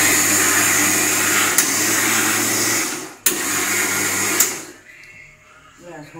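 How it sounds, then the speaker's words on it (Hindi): A mixer grinder whirs loudly and steadily as it grinds soaked rice, pausing briefly around the middle and then cutting out near the end, leaving a quieter tail. "फिर मिक्सी में डाल के पीस के"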